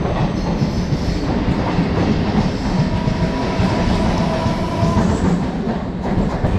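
A Chennai suburban train speeds into Park Town station, a loud continuous rumble of wheels on rails with rhythmic clatter and a faint squeal, heard from inside the carriage.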